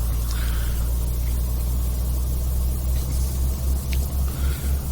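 A heavy truck in Euro Truck Simulator 2, hauling 22 tons of ammunition, labours slowly up a hill with a steady, loud low engine rumble that throbs in rhythm, with no talking.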